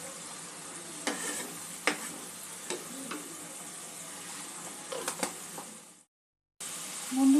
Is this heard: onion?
yes